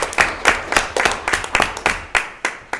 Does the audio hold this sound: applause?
yes